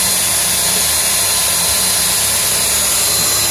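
A motorized wire brush scrubs a threaded metal part in a loud, continuous whirring buzz with a gritty edge, close up and steady throughout, with no voices.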